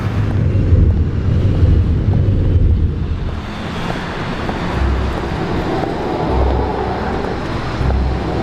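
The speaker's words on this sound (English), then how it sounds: "Trash and filth blow in the wind." Steady outdoor wind blows trash about at sunset, a continuous loud rushing gust with low rumble and buffeting that eases slightly midway, no voices.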